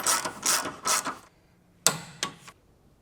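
Torque wrench tightening a tie rod on a Mercedes E55 AMG, three quick close ratcheting bursts, a short pause, then two more sharp clicks and ratchet sweeps.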